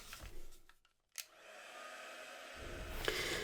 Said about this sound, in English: So I'll just dry this a little bit more and then add that just a bit more of blue here